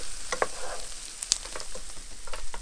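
Onions softening in a pan for an Italian tomato sauce, a soft continuous sizzle with light clinks and stirring, close and moderately quiet.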